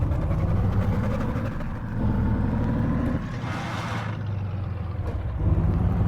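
Engine of a 1927 Auriga Heron car in the BeamNG.Drive game revs up as it accelerates, a steady droning note that rises and shifts between gears, fairly close and unaccompanied by talk.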